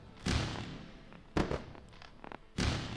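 Fireworks sound effect marking a filled NQ futures trade during live day trading: three booming bursts roughly a second apart, with softer crackles and pops in between.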